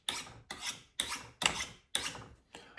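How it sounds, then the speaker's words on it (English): Kitchen knife drawn along sharpening rods in six steady, evenly spaced strokes, each a bright metallic rasp that swells and fades about every half second, close and alone with no talk. "You do that, you get 20 strokes on each side"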